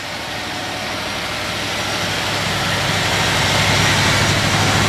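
The engine of a 1961 Chrysler Imperial Custom with dual exhaust idles steadily and close up, a loud, even rumble with a broad hiss that builds slightly over a few seconds.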